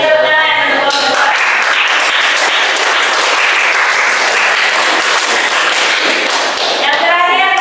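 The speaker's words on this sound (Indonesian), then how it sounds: "Silakan beri tepuk tangan untuk kelompok" Classroom applause for a student group, dense continuous clapping from many hands filling the room, loud and close, with brief speech at the start and end.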